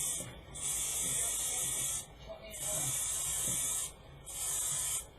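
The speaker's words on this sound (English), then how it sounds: "Oh yeah, that's spraying a lot better now." An airbrush sprays paint onto a Gunpla model kit in three steady hissing bursts, each lasting about one to two seconds, with short pauses between them, close and fairly quiet.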